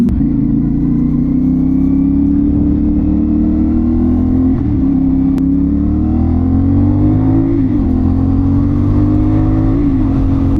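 A CFMOTO 450SS sport motorcycle engine idles while warming up, a loud, close, steady low rumble with small rises in revs and no talking.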